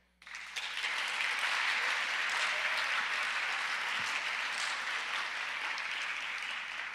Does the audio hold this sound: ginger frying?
no